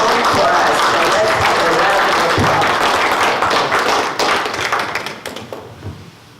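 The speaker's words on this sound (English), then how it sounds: "have a round of applause" An audience at a community forum meeting gives a full round of applause, thick and close, thinning out toward the end into a few scattered claps.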